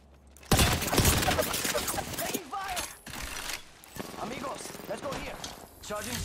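Rapid bursts of gunfire from an Apex Legends match crackle loudly and continuously across the clip, with mechanical clatter mixed in and no voices over it.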